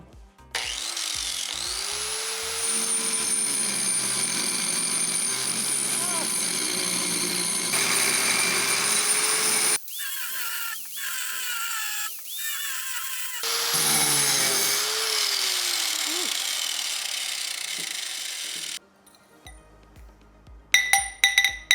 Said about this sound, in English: I have a better blade that I can put on the grinder that will cut it faster